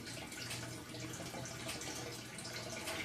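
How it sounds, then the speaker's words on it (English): Water gurgles and rushes steadily from an aquarium siphon pipe blowing bubbles deep into a goldfish tank of an aquaponic setup, a close, continuous bubbling wash with no voices. "when it starts the siphon, have a pipe going down into the tank, and it blows bubbles way down deep into the tank"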